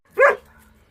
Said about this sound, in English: Come on, puppies.